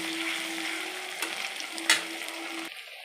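Green chilli and chopped ginger fry in a pan with a soft, steady sizzle, quiet and close, with a few utensil clicks and stirring noises over a faint background hum.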